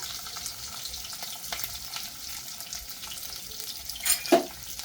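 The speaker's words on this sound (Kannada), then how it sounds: "ಸೊ ಅದನ್ನು ಸ್ವಲ್ಪ ಫ್ರೈ ಆದ್ಮ್ಯಾಗ ಉಳ್ಳಾಗಡ್ಡಿ ಆಮೇಲೆ ಹಸಿಮೆಣಸಿನ್ಕಾಯಿ ಹಾಕಬೇಕು" Cumin, onion and green chilli frying in oil for mango rice, a soft continuous sizzle with light stirring scrapes and a couple of louder clatters near the end.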